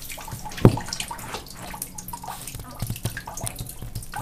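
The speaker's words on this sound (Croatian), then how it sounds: "Ne znam otkud ova voda kad sam zavrnuo vodu." Water drips from an Ariston 80-litre combination boiler after the supply has been shut off: one sharp, close drop near the start, then faint scattered drips over a low steady background.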